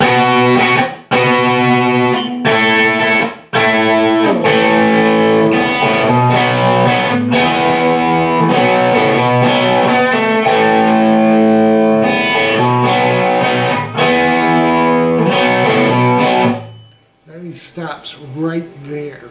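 A distorted electric guitar plays the post-solo tag of a song: loud, sustained chords with brief choppy breaks, ringing on before cutting off near the end into a few faint scattered sounds.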